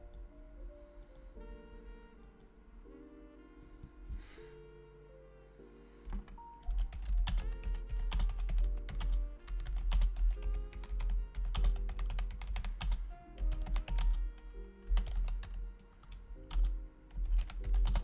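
Someone types on a computer keyboard with rapid, irregular clacking keystrokes that grow denser and louder partway through, set against a quiet background of soft tonal music.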